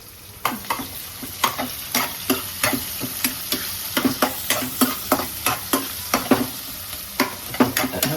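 Vertically sliced onion frying in oil while being stirred, with a steady sizzle and repeated close scraping strokes of a spoon against the pan at a brisk, regular rhythm, no voices.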